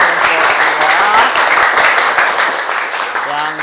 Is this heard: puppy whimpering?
no